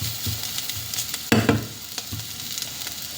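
Liver with black pepper sautéing in a modest amount of oil in a pan, with a steady soft sizzle broken by a few stirring scrapes and clinks near the middle.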